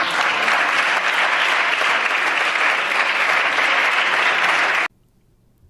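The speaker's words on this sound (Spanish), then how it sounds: "Aplausos recibe la gran intelectual que se compara mucho con Marie Curie." Sustained applause fills a parliament chamber, loud and even for about five seconds before it cuts off abruptly into near silence.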